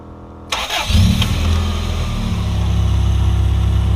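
A lowered van with 88,000 kilometres on it cranks briefly and fires up loudly nearby, then settles into a steady, rumbling idle.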